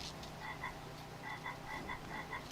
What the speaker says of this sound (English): where is the croaking coming from?